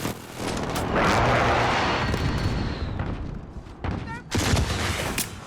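Precision airstrike explosions in a shooter game, a rolling barrage of booms and gunfire that swells loud, eases, then cracks again with sharp blasts near the end.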